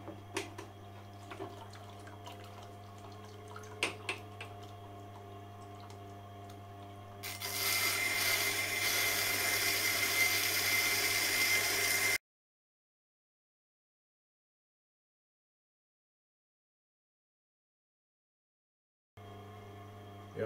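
A narrow fillet knife is sharpened on a Tormek CBN 80 wheel: a steady motor hum runs throughout, then a brighter, louder grinding rasp for about five seconds before cutting to silence and returning to the quiet hum.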